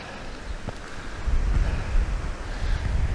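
Steady rushing water from a waterfall beside a fell path in Upper Eskdale, a continuous broadband roar with low rumbling and wind buffeting, close and fairly loud throughout.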